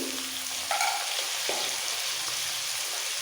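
Steady, loud sizzling fills a pan of frying vegetables for a prawn dish, with a few scraping stirs near the start and middle, and no talk.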